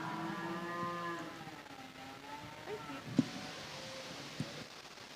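An Angus heifer moos at a junior breeding heifer show, a long low call near the start, followed by arena background noise and a couple of brief knocks.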